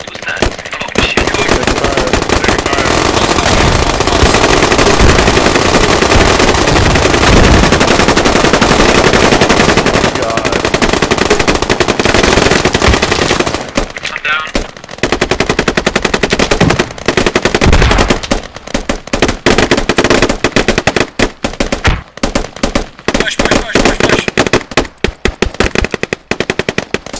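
Enemy gunfire in the video game Squad, dense rapid machine-gun bursts and overlapping shots at high loudness for about half the time, then more broken, stuttering volleys with brief gaps.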